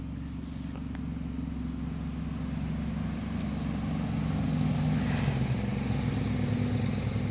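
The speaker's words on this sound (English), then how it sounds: "Always quarry trucks coming down this road." Heavy quarry trucks pass along a rural road near Buffalo Forge: a steady low engine rumble that builds gradually louder as a vehicle approaches, with no talk over it.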